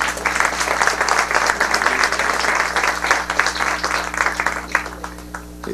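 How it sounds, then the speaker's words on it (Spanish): An audience applauds a speaker at a national parliamentary debate session, a steady, close wash of many hands clapping that carries through to the end, with a low hum beneath it. "Un fuerte aplauso para Eduardo Bojórquez"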